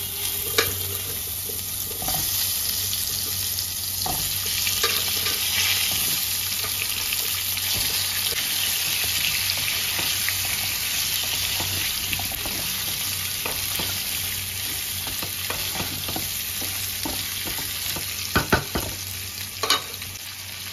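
Vegetables frying in oil with dry red chillies and panch phoron give a continuous loud sizzle and hiss, with occasional scrapes and knocks of a spatula stirring in the pan throughout.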